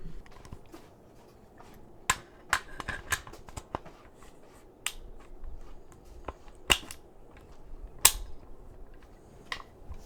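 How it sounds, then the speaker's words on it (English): An AR-15 upper and lower receiver being fitted together: sparse, sharp metallic clicks and snaps, close and distinct, scattered irregularly over a quiet background with no talk. "Now I'm going to put the upper and lower receiver together."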